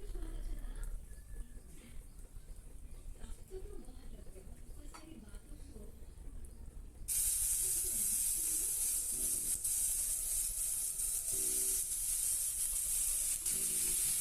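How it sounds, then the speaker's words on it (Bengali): Tomatoes dropped into a well-heated wok sizzle loudly and steadily, a bright broadband hiss that bursts in suddenly halfway through after a quieter stretch with faint background sounds. "কড়াই ভালো মতো গরম হয়ে গিয়েছে, এখন এর মধ্যে টমেটোগুলো দিয়ে দেব।"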